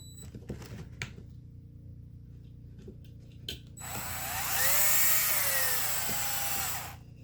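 A power tool whirs up to a steady high spin for a few seconds, then winds down, after some quieter knocking and handling noises.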